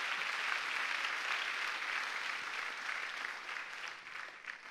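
Worshippers at a church testimony service clap for Jesus, a soft, even patter of many hands heard from a distance that fades a little toward the end.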